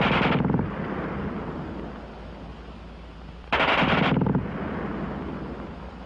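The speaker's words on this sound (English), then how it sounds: "That thing sprays a lot of lead." A German WWII machine gun fires two very rapid, loud bursts, one brief and one about a second long, with a gap of steady background between them.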